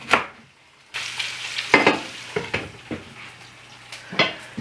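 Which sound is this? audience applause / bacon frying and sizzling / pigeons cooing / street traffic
bacon frying and sizzling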